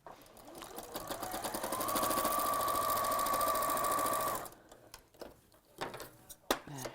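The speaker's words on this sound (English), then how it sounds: "I'll sew back over that bit so I know that I've got the fabric trapped in the seam" Sewing machine stitching back over a seam on a man's shirt or pull-on dress, a fast mechanical rattle that builds to a steady hum with a whine for about three seconds, then stops, followed by a few handling clicks.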